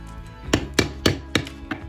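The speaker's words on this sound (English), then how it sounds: "Can you pound on this a little bit? Pound right here." A hammer pounds on wood during a room makeover with IKEA Havsta cabinets: six steady, evenly spaced thuds, close and fairly loud, with nothing else over them.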